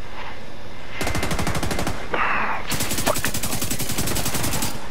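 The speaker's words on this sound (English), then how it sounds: "I'm just going to shoot you." Automatic gunfire rattles in The Division 2 video game in two long, rapid bursts, loud and close, separated by a short pause with a brief tonal sound.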